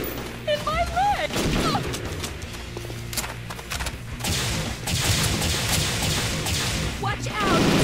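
Gunfire in the Perfect Dark Zero shooter on a bridge stage, bursts of shots mixed with whooshes, crashes and game effects, with voices talking over parts of the action.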